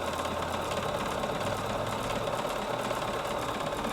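A Bernina sewing machine runs a continuous test seam on fabric, a steady, even mechanical whir and rapid needle chatter that stays at a constant level throughout, with no talking.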